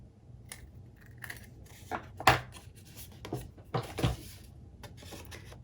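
Scissors trim excess cardstock off a card pocket in a few separate crisp snips and rustles, close up and fairly quiet, with pauses between cuts.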